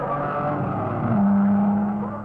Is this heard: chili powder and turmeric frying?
no